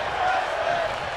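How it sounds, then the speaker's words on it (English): Crowd at an independent professional wrestling event cheering and applauding in a steady, dense wash of noise that holds for over a second, close and fairly loud. "the praise from the crowd"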